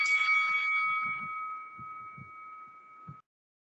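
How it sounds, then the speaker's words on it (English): A debate timing bell gives a single clear ring that holds a steady tone and slowly fades for about three seconds before stopping abruptly, with faint low thumps underneath. "The bell will sound something like this."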